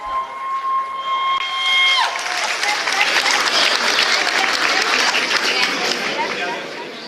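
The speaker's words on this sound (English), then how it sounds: "Let's have another round of applause for Pradeep Uncle." Applause and cheering from guests at a sangeet night celebration after a performance; a sustained tone gives way at about two seconds to loud, full crowd clapping with scattered cheers and chatter.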